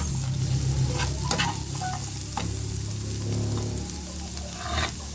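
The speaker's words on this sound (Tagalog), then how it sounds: "Ito na, hulog na natin yung bangus. Gisa-gisa lang to guys." Milkfish (bangus) for sisig sautés in a pan, a constant close sizzle with scraping stirring strokes and utensil knocks, no voices.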